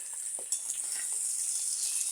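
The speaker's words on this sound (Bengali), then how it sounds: "আজকে মাছ ফ্রাইয়ের মধ্যে একটু টমেটো কাঁচামরিচ আর হচ্ছে পেঁয়াজ দেবো" Fish fries in a pan with tomato, green chili and onion, giving a soft, steady sizzle with faint crackles and a few light stirring clicks, quiet and close.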